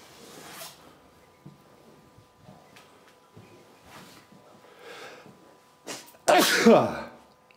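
A single sharp sneeze bursts out loudly near the end after quieter rustles and faint breathing in a villa room.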